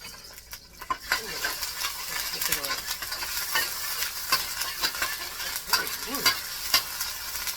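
Garlic and ginger sizzle in a hot pan for beef lo mein, a close frying hiss broken by irregular stirring clinks and scrapes of a utensil against the pan, no talking over it.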